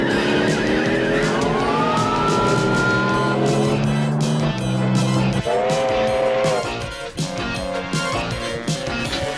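A cartoon race car at top speed gives a loud, sustained engine whine with rising and falling pitch sweeps, tire squeals and racing effects that blend together continuously throughout.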